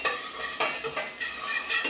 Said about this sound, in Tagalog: Isutay mo lang yung onions nyo hanggang sa maging translucent siya.